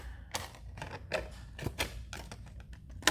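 Scissors cut out the inside of a recycled plastic piece meant for earrings, a series of close, crisp snips at an uneven pace over about three seconds, with no talking.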